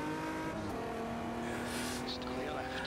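A stock car in the racing game Automobilista 2 at full throttle gives a steady, loud engine drone with a faint squeal of tyres near the end and a voice briefly audible.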